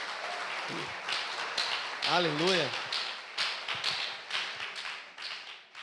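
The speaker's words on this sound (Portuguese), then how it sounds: "Você pode dar uma salva de palmas para esse casal abençoado?" A church congregation applauds a visiting pastor couple, a steady crowd clapping running throughout, with a brief spoken exclamation over it partway through.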